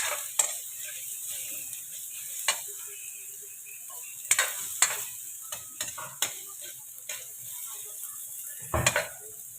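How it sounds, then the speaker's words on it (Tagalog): Garlic sizzling in a pan while frying for adobong pusit, a faint continuous hiss punctuated by sharp clicks and taps of a utensil against the pan, with no one speaking. "Sunod, ihulog natin ang bawang. Hayaan natin ito hanggang sa mag-golden brown."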